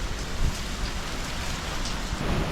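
Heavy rain pours steadily during Hurricane Melissa, a dense continuous hiss of drops on surfaces with gusting wind, loud and close throughout with no voices.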